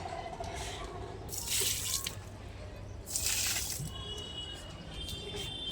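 Water is poured by hand onto potted plants on a sunny rooftop. Two separate splashing gushes rise over quiet background hiss and faint drips.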